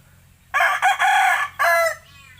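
A rooster sick with botulism crows nearby, loud and clear, in one drawn-out call broken into several strained segments.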